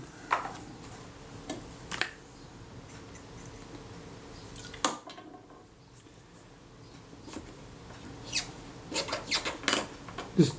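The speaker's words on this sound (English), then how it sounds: "Just cleaning around the outside edge where the blade actuating ring runs to remove that old grease and so forth." Scattered rubbing and scraping taps come from cleaning old grease off the outside edge of a Voigtlander Vitessa T camera lens tube, soft close handling noises with a few sharper clicks, busier toward the end.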